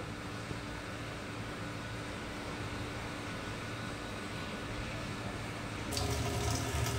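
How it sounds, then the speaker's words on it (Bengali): Mangoes for Malda-style pickle are washed under a steady rush of running water that hisses on evenly, then swells louder and splashier in the last second. "এবারে আমগুলো ধুয়ে নেব"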